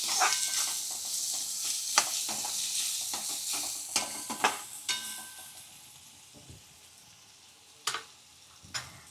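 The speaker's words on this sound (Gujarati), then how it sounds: "ગેસની ફ્લેમ ધીમી કરી નાખવાની થોડી વાર હલાવતું રહેવાનું એટલે આપણે ડુંગળી સરસ ચડી જાય" Chopped onions fry gently in a pan over a low gas flame while a spoon stirs them, giving a soft sizzle broken by sharp scraping clicks that thin out toward the end.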